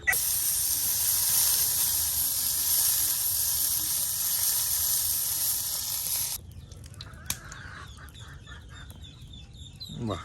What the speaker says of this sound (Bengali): আর এখন এই যে মাছগুলো এখন ভেজে নেওয়া হচ্ছে।